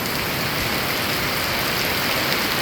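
Light rain falling during a storm, a steady, dense hiss of drops on surfaces that stays even and close throughout.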